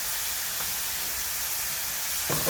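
A loud, constant hiss and sizzle comes from bok choy and cooked meat being stir-fried with soy sauce and oyster sauce seasoning, broken by a brief scrape of stirring near the end.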